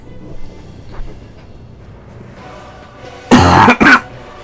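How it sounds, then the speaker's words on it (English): A man coughs twice in quick, loud, close bursts after a stretch of quiet background noise while playing an online Dota game. "Now I am still coughing a little bit."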